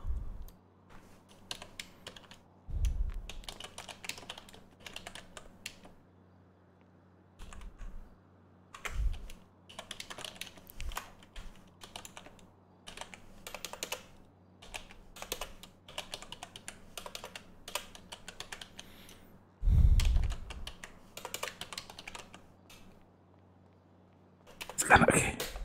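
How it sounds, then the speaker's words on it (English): Bursts of typing on a computer keyboard, rapid clattering keystrokes in irregular runs with pauses between, close and fairly clear, with a louder thump or two near the start and end. "I think my typing needs improvement."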